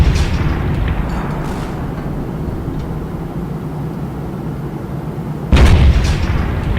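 Heavy explosions tearing through a castle in the game Teardown, with 105 mm artillery shells and napalm, form a continuous loud rumbling roar and then a sharper blast near the end, with no talking.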